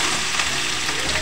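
Pork for ginataang gulay sizzles loudly in a hot pan, a dense, crackling fry that stays steady and close the whole time, with no talk over it.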